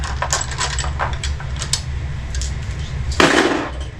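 Spare lug nuts for a Toyota Tacoma trail kit are handled, producing light scattered metallic clinks over a low background hum, ending in a slightly louder rattle.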